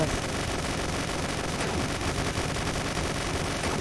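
Gunshots strike the player in a chaotic deer-themed video game, a dense, continuous barrage of rapid firing and impacts that stays loud and steady throughout, with no clear gaps between shots.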